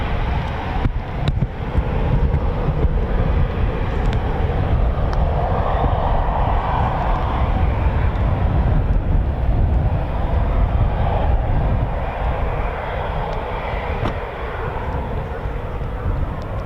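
A Eurofighter Typhoon FGR4 landing at RAF Coningsby with its drag chute deployed, a sustained rumbling jet roar rolling out along the runway, with faint talk in the background.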